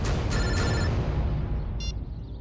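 A phone rings with two quick electronic ring bursts at the start and a short tone later, loud over a dense dramatic background rumble in a crime drama scene; no speech.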